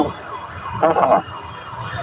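An ambulance siren wails briefly, rising over a murmuring crowd at a street protest, heard once at moderate distance.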